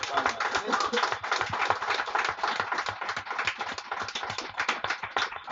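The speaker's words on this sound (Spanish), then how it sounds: "Dale una fuerte ofrenda de palmas." A church congregation claps their hands in quick, rhythmic bursts, filling the room while a preacher keeps speaking over them.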